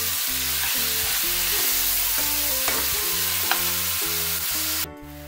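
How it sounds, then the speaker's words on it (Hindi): Chopped onion with whole cumin sizzles loudly in hot oil for Punjabi-style chole while a spoon stirs it in a steady rhythmic pattern of scrapes, alone and close. "इसके बाद हम ब्रीक कटा हुआ प्याज डालेंगे, और इसको हलाते हुए"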